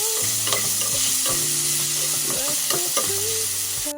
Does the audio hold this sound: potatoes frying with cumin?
yes